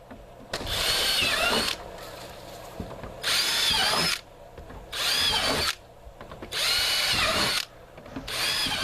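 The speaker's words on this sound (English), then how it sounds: "The last few holes being drilled." Power drill boring large holes for an aquaponics composting tower, four loud drilling bursts of one to two seconds each separated by short quieter pauses, close and alone with no talk.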